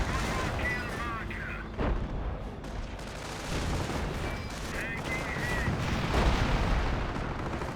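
A rocket barrage in Battlefield 1 pounds across a battlefield as a dense wash of rumbling explosions, booms and scattered gunfire, with distant shouting voices mixed into the continuous roar.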